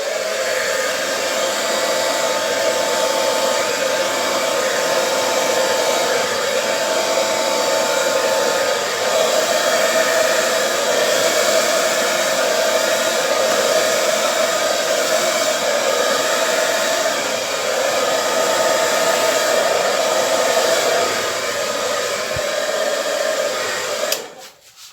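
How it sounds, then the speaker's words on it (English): A hair dryer blows loudly and continuously at close range over wet acrylic pour paint, a steady whooshing roar that cuts off abruptly at the end. "I'm going to blow this out with the hairdryer"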